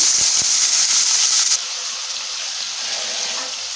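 Drained raw banana pieces drop into hot tempering oil, setting off a loud, hissing sizzle that eases slightly after the first second and a half, then continues steadily.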